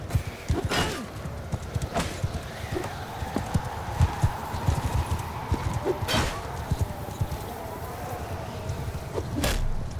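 Cavalry horses galloping across a medieval battlefield in a strategy video game, with steady clip-clop hoofbeats, occasional whinnies and sharp impacts over continuous battle noise.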